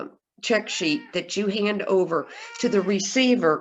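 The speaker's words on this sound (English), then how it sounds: "that's my cat you hear." A domestic cat meows a few times, its calls mixed into steady, close speech from a person talking indoors.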